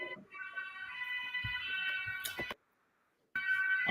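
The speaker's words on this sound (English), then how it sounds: "I have sirens in the background" Emergency vehicle sirens wail outside, muffled and steady, with a brief complete silence before the tone resumes.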